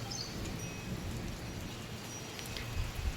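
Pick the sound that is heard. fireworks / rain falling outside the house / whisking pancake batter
rain falling outside the house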